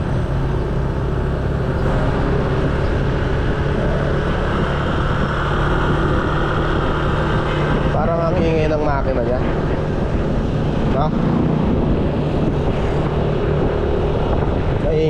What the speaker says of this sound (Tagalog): Maingay yung makina ng ADB.